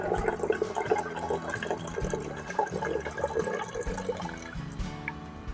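Prepared liquid fly bait pours into a plastic bottle trap, a steady close gurgling splash with dripping that fills a few seconds with no talk.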